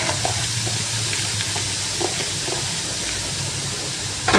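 Bean sprouts are stir-fried over high heat in a pan as filling for stuffed tofu, making a loud, dense, continuous sizzle with faint scraping from stirring throughout.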